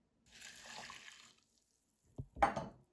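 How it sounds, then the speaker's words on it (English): Oats tip into a saucepan with a soft, dry rushing pour, then after a short pause water splashes in with a few quick sloshes and a brief gurgle, close and fairly quiet, on a camping stove. "Pouring in my oats to my saucepan and the water."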